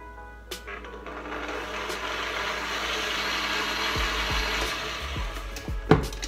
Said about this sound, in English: You can either use a hand mixer or you can just use an electric mixer.